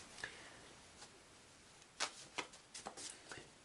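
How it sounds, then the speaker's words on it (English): Playing cards shuffled by hand during a tabletop football game, a few quick riffles and soft snaps that rise and fall over about three seconds, fairly faint in a quiet room with no talking. "Let's try to make sure we shuffle these as best we can."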